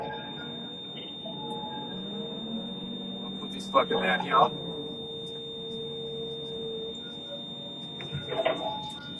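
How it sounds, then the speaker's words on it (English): Warning buzzer inside the cab of a 35-tonne excavator sorting and loading side tippers: a steady, high electronic tone holds throughout, with someone talking over it and a few bucket clunks. "The quickish buzzer?"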